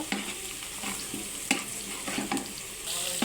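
Pumpkin bhaji sizzles and crackles in a pan on the stove, with repeated spatula scrapes and stirring knocks over a constant frying hiss, close by and without talk.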